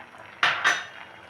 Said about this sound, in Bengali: এখন আমি এটার মধ্যে খানিকটা চালের গুঁড়ো মিশিয়ে নিলাম